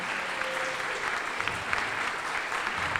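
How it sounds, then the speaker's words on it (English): Steady applause from a crowd gathered at an outdoor LGBTQIA+ Pride event in Waterbury, a continuous wash of clapping that runs the whole stretch without pause and with no one speaking over it. "Give him a round of applause here"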